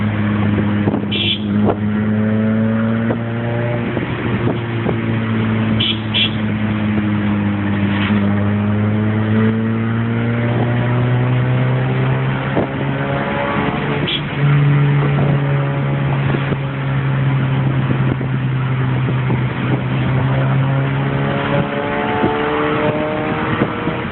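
Car engine revving steadily while driving on a Sunday morning, with continuous loud drone and rising, falling pitch as it accelerates and shifts, alone without talk.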